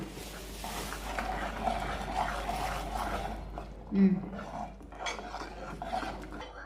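A mixture stirred in a pot to keep lumps from forming, with a steady scraping and clinking of a spoon against metal and one louder knock midway, close by, with a voice faintly underneath.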